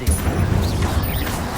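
An Incendio fire spell cast in the video game Hogwarts Legacy erupts in a brief, loud whooshing burst of flame with low rumbling crackle, close and unaccompanied by speech.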